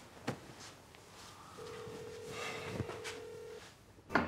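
A telephone on speakerphone gives a steady electronic tone for about two seconds, followed by a few faint clicks and a brief burst of sound at the end, quiet and with no talk.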